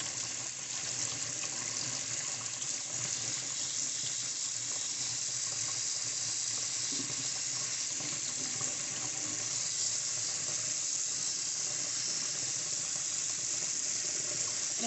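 Makeup brushes rinsed under a running sink tap, a steady unbroken rush of water splashing close by throughout, with no talking.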